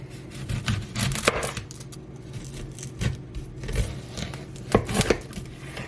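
Knife chopping onions on a board for onion gravy, irregular clusters of crisp thuds and taps with short pauses between, close and fairly loud.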